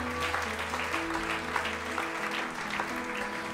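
A church congregation claps along during worship, a full dense patter of many hands with steady rhythmic emphasis, alongside sustained music underneath.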